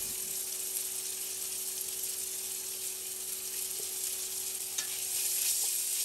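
Minced ginger and garlic fry with vegetables in a pot, producing a soft, even sizzling hiss at moderate level with occasional faint stirring clicks.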